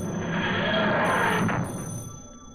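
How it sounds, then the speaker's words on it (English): A telephone rings in a video game scene, one sustained bright ring lasting about two seconds under a dense, steady game soundscape, with no talking. "We have a ringing phone."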